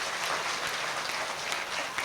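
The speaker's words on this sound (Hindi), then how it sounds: "ऐसे महाराज श्री के लिए एक बार जोरदार तालियां" Applause from the audience at a Hindu religious festival, the Shree Vishnu Mahayagya Mahotsav, honouring a revered guru: dense, steady clapping that holds at an even level throughout, with no speech over it.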